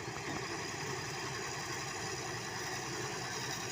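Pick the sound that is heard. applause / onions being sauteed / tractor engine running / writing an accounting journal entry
tractor engine running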